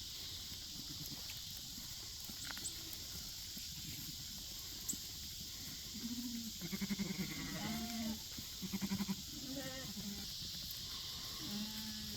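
Sheep and goats grazing a BMR sorghum-sudan mix, giving several short bleats at mid-distance over a quiet rustling field background, with scattered calls clustered in the second half.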